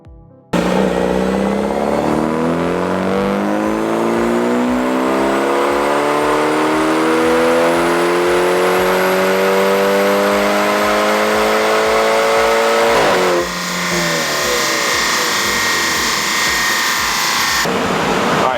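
A BMW F30 with a stock motor and fuel system revs hard through a dyno pull, its loud engine note rising steadily over about twelve seconds before dropping off and settling into a lower, rougher drone.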